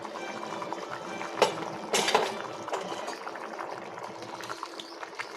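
Water bubbles and simmers quietly in a cooking pot while peanut rice cooks, with a few sharper clinks and pops of liquid breaking through the steady low churn.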